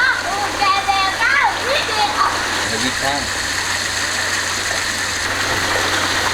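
Water drains from a tank holding red claw crayfish in a steady splashing, gushing flow, close by. Someone speaks over it throughout.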